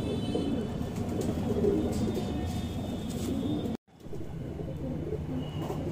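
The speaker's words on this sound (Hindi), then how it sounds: "सफेद जीरा कबूतर है भाई" White jeera pigeon of the Madrasi breed coos in low, soft, repeated throaty murmurs close by, with a brief moment of silence partway through and no speech.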